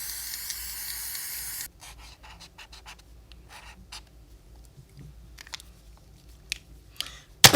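A short, sharp hiss of a spray can sounds up close for a couple of seconds, followed by faint rustling and small handling noises.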